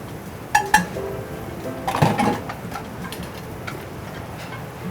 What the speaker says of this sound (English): So I'm going to go ahead and plate this up.